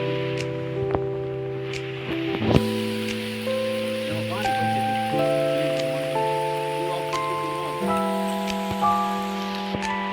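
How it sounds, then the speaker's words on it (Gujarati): Rain falls steadily outdoors as a soft, continuous hiss beneath louder sustained tonal sounds and occasional voices. "હાલો હાલો વરસાદ આવે છે"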